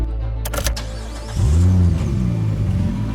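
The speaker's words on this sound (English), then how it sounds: "The car is headed for the highway" A green Dodge car is driven toward a highway, its mid-range engine rising in pitch as it accelerates after a few sharp clicks, loud and steady with no voices.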